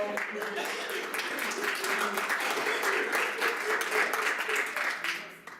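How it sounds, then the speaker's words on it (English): An audience at a library hypnotist show applauds steadily for several seconds, dense clapping from a room of people with voices mixed in, fading at the very end. "can we give them a round of applause"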